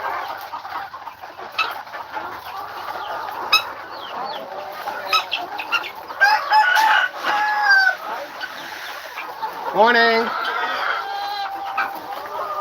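A rooster crows among clucking hens and chicks at a farm in Aklan early in the morning, close and lively, with a person speaking briefly over the birds.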